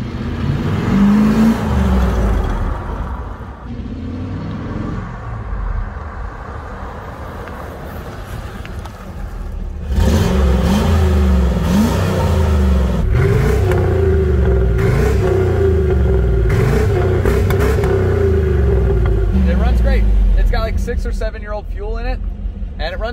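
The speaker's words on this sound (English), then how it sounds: "I think it's running on 8 cylinders right now." Old V8 car engine from the late owner's childhood dream car, first started after decades, rumbling and revving loudly while being driven, with a steady low drone and swells of throttle under frequent talk from the driver.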